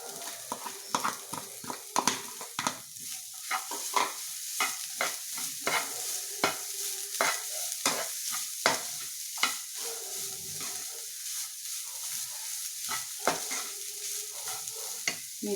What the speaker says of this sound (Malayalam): ഇതിലേക്ക് നമുക്ക് സബോള ഇട്ട് കൊടുക്കാം.